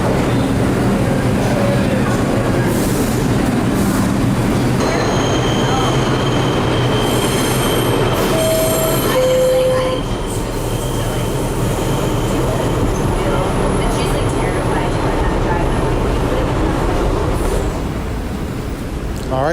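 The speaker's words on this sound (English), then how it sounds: "Here's our 6 train." A New York 6 subway train rumbles loudly close by, its wheels letting out high metallic squeals and screeches as it pulls into the station, with faint voices underneath.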